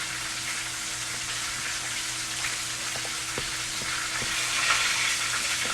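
Seasoned corn with onion powder is stirred in a bowl, giving a soft, steady scraping hiss with faint scattered clicks of the spoon, quiet and close, with no voices.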